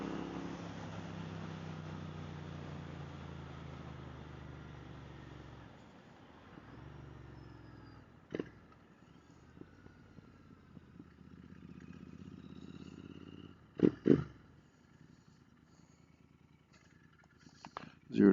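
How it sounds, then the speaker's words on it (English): Royal Enfield GT Continental 650 motorcycle fitted with an S&S 865 big bore kit and exhaust, a steady, rich engine drone riding close by that fades and then returns more thinly among scattered bumps and clatter. "that exhaust sounds fantastic."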